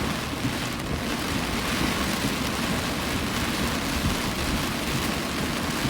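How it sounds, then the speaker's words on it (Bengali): Heavy rain pours down in New York in a dense, unbroken roar, loud and constant with no voices. "এত ভারী ভারী বৃষ্টি, মুষলধারে বৃষ্টি হচ্ছে।"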